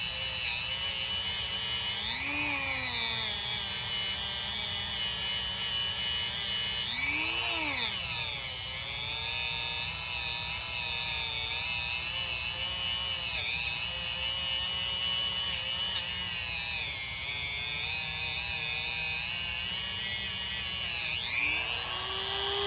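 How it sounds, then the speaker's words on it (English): A Dremel rotary tool whines steadily while polishing metal toward a mirror finish, its pitch rising and falling as pressure shifts, continuous and close with no talk. "Let the Dremel tool do the work."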